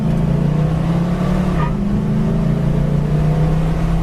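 A 1973 Dodge Challenger rally car with 373 gears drones loudly from inside while driving, its engine note steady and then shifting pitch as it pulls and accelerates, with no talk.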